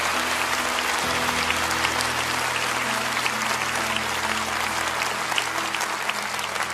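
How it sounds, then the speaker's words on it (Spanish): A church congregation applauds with sustained, dense clapping that holds at an even level throughout, with a faint murmur of crowd beneath. "No dejen de darles ese aplauso porque lo mejor de esta reunión está pasando ahora."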